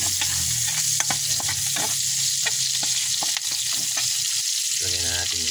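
Onions sauté in hot frying oil with a steady close sizzle, broken by repeated clacks of a utensil stirring the pan.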